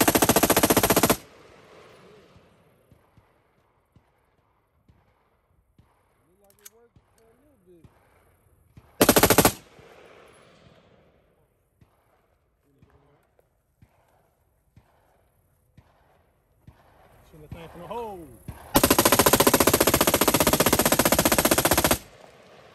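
Full-auto SEV II rifle firing 5.56 rounds in three loud bursts, a short one, a brief one, and a longer sustained burst at the end, with quiet clicks and murmured voices between them.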